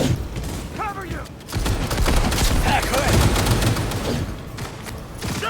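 Gunfire rattles in the video game Cyberpunk 2077 as rapid bursts and booming shots in a firefight, with voices calling out over the shooting.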